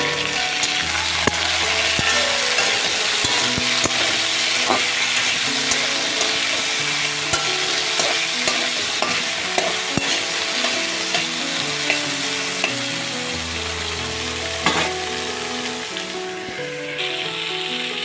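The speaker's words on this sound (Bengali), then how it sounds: "এখন আলুটাকে ভেজে নিই, পেঁয়াজটা একটু পরে দেবো।" Potatoes sizzle steadily in a hot pan while being stirred, a loud continuous frying hiss dotted with scraping stirs throughout, with no voices.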